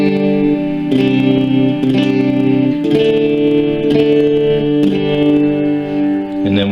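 An electric guitar plays through a Boss ME-50 multi-effects pedal on overdrive distortion, sustained chords struck roughly once a second, rich and buzzing with a slight echoing tail, close and loud without talk.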